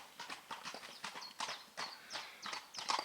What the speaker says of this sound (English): Oh, here comes the horses